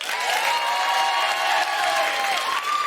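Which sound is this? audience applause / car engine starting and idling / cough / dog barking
audience applause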